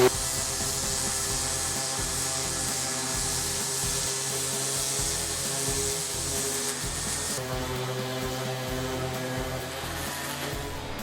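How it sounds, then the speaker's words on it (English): Wood pieces cut from a tree branch are sanded to 100 grit with a power sander, a steady, loud abrasive whir that runs unbroken through the whole stretch, its tone shifting slightly partway through. "I'm just going to give everything a quick sanding down to 100 grit"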